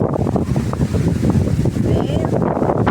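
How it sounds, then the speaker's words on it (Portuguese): Strong gusts of wind buffet the microphone on a riverbank, with choppy water beneath them and rain on the way. The roar is loud, close and steady throughout. "Vento."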